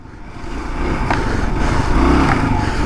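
A Kawasaki KLR 650 motorcycle engine climbs in revs while the bike takes a tight corner on a bushy single-track trail, a steady mid-range drone rising in loudness over a few seconds.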